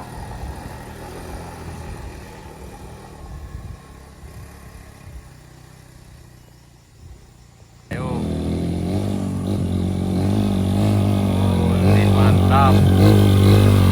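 A motorcycle climbing a steep wooden ramp, engine idling low at first, then suddenly roaring louder and revving steadily as it pushes up, with people shouting encouragement over it.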